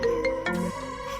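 A phone rings with an incoming call, a short electronic ringtone of bright, stepped tones heard up close in an indoor scene.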